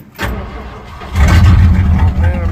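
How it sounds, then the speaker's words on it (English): A 1974 Ford F250 truck engine cranks briefly and then catches, settling into a loud, rough, close-up running rumble. "All right, let's start this beast up."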